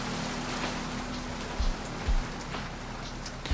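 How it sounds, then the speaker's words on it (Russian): Heavy rain from the worst downpour in ten years, falling on a garden-plot settlement, a dense continuous hiss of drops drumming on surfaces, close and loud throughout, with a few low thumps and no speech. "Это все-таки самые сильные дожди там за последние 10 лет."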